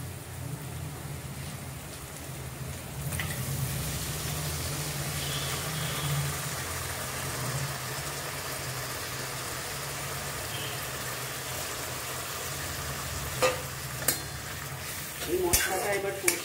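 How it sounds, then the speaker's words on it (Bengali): Spice masala with onion, tomato and sour yogurt frying in oil, a steady close sizzle running throughout, with a few clinks and scrapes of a spoon toward the end. "মশলাটা এবার কষিয়ে, তেল যতক্ষণ না উঠছে ততক্ষণ আমি কষিয়ে যাব"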